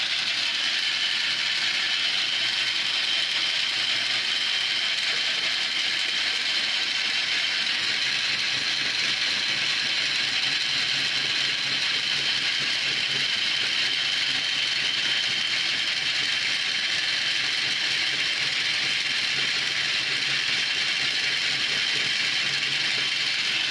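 A homemade gear cutting mill running in second gear, a continuous close mechanical whir and rattling grind that holds steady throughout without talk.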